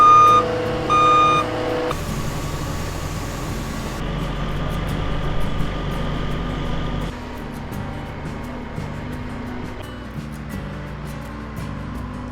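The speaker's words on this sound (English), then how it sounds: "First concrete truck just showed up." A concrete truck pulls onto a busy construction site where a road is being built, its reversing beeper sounding in steady pulses at first over a heavy engine rumble, with machinery noise continuing throughout.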